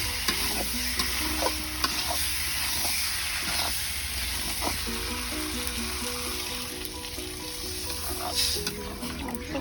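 Potatoes frying with masala in a pan over a wood-fired stove, a steady sizzle and hiss throughout with repeated scraping and knocking of a spoon stirring, close and alone.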